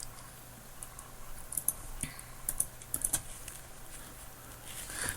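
Quiet, close computer keyboard typing in short irregular bursts of light key clicks, with no one speaking.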